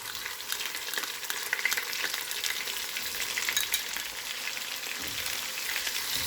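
Ginger garlic paste fries with onions in a pan, producing a dense, bright crackling sizzle that stays steady and close throughout, with light stirring textures underneath.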